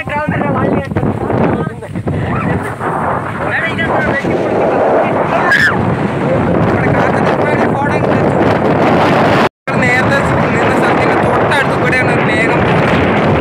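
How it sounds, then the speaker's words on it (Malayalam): Strong mountain wind buffets the microphone in a loud, continuous roar with gusty surges, broken by one brief dropout near the end. "നല്ല കാറ്റ്"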